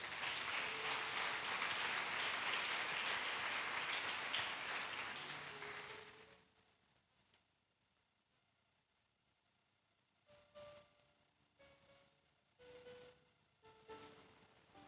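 A church congregation applauding, loud dense clapping for about six seconds that then stops abruptly, followed by quiet with some faint scattered sounds.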